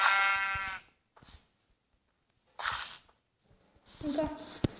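Sheep in Minecraft bleating in a few short bursts separated by silence, one wavering bleat at the start and later ones mixed with other game sounds, close and clear.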